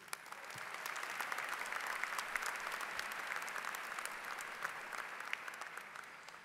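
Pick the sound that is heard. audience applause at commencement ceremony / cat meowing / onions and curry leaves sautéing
audience applause at commencement ceremony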